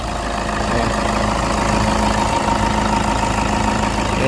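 A 2008 Toyota Kijang Innova V diesel with automatic transmission idles steadily up close, a continuous low, even rumble with a faint clatter and no voices.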